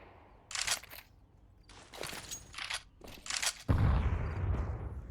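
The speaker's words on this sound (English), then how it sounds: "Oh, big nade." A grenade blows up during a Counter-Strike match on the Inferno map: a few sharp cracks and shots come first, then a loud, deep booming blast with a rumbling tail near the end.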